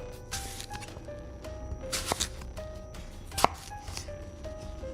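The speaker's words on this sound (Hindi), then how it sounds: "ला थोड़ा बहुत सलाद काट लूं खाने के लिए" A knife chopping salad vegetables on a board, with irregular crisp cuts, a couple of louder knocks and soft scraping, close and fairly quiet against a faint hum, in a horror story setting.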